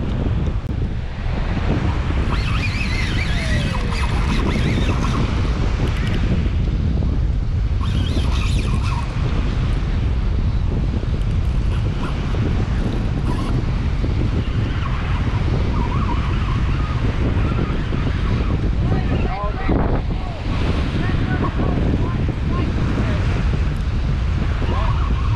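Strong ocean wind roars steadily into the microphone while people fish from a boat at sea. The loud buffeting continues through the whole clip, with faint water sounds underneath.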